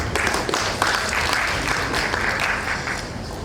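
An audience at a World Soil Day opening ceremony applauds steadily, dense continuous clapping that fills the room without a break for a few seconds.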